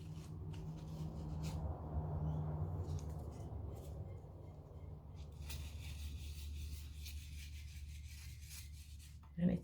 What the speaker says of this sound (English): light sandpaper. I don't know how I managed to do that. But I'm hardly even touching it. In a circular motion.